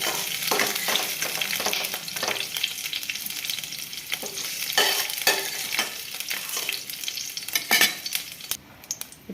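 Onions fry in hot oil in a pan for Telugu mudha vakaya, a steady loud sizzle broken by repeated scrapes and stirs of a utensil, with no voices.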